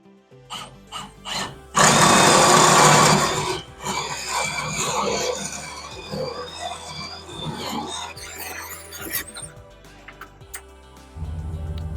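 A power drill whines loudly in a short burst boring through wood, then gives way to softer knocking and handling noises, with another brief motor start at the end.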